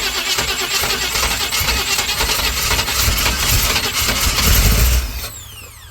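A 388 stroker engine in a solid-axle-swapped S10 Blazer runs loud and rough for about five seconds, close up, then cuts out abruptly.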